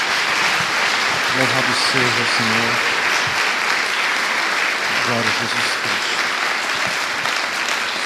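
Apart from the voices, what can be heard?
congregation applause in church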